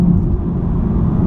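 A BMW M2 in sport mode gives a steady, loud low engine rumble with a gearbox whir inside the cabin, holding a constant drone throughout with no clear gear change standing out.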